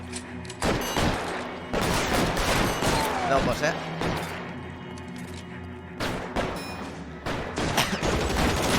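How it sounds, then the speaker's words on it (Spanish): A shootout in L.A. Noire, with loud bursts of repeated gunfire and heavy impacts in close succession, and someone talking over the shooting. "Tiroteo, chaval, tiroteo, mira."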